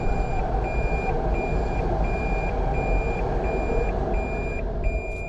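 A reversing car gives a regular series of high electronic beeps, evenly spaced and repeating throughout, over a steady engine and road rumble.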